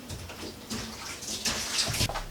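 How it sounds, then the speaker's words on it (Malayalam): Oil poured into a pan makes a short liquid splash and trickle up close, rising in the last second, with no voices. "എണ്ണ ഒഴിക്കാം."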